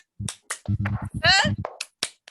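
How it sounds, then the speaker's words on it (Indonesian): A class of schoolchildren performs the rhythmic 'tepuk semangat' clapping chant: a quick run of sharp, patterned claps, close and fairly loud, blended with young voices chanting along in time. "coba tepuk semangat dulu. Tepuk semangat."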